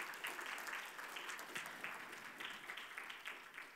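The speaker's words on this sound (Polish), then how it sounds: "Ogromne brawa." Dense applause from an audience at an award ceremony, many hands clapping together in a steady, bright wash, moderately quiet and continuous for a few seconds.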